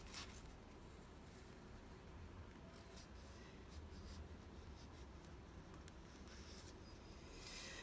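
Crayon scratching across a paper plate as coral shapes are drawn, a soft continuous scribbling texture with faint short strokes, close and quiet under steady room noise.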